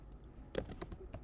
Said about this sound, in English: let me try typing that.